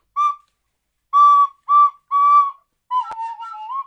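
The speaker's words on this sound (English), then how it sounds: "That's the first notes I've played on a recorder in about 40 years." Short clear whistle-like notes on a recorder, four separate blown tones followed by a wavering, slightly unsteady longer phrase, close and fairly loud.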